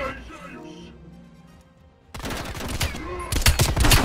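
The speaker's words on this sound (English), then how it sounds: "Flashbang." Call of Duty Black Ops Cold War gameplay: after a quiet ringing lull, a flashbang bursts and loud rapid gunfire crackles in close bursts, intensifying toward the end.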